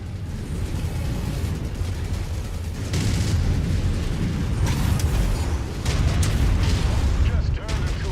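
Mech explosions in the MechWarrior 5 video game form a dense, loud, continuous wall of booming blasts and rumble, with bursts of crackle swelling in waves. Voices talk over the din.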